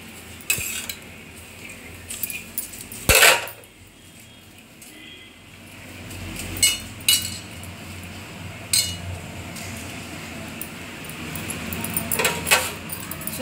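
Okra pieces tipped into an iron pan and stirred, with sharp metallic clinks and scrapes scattered irregularly over a low background hiss, one loud clatter early on, close by and without talk.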